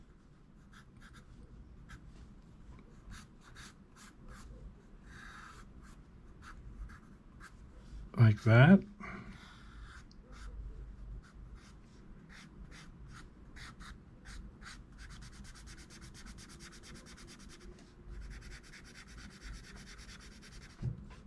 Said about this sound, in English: you can get one of your pencils that you like a lot and go over it